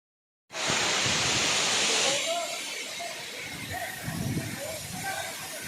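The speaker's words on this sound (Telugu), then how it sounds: "ఇక్కడ నుంచి వెళ్ళిన వాటర్ కొండ మించి కింద దిగుతుంది" A hill waterfall at Lambasingi gives off a loud, broad rushing roar that starts abruptly and then settles into a steady, slightly softer flow, with faint voices in the background.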